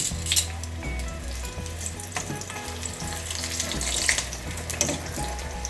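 Sausage frying in oil that is a little too hot for Scotch eggs makes a loud, continuous crackling sizzle up close, with occasional sharper pops and spatters throughout.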